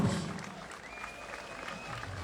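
A crowd at a football club's season opening applauds as a vice president is introduced, a soft, steady wash of clapping heard from a distance.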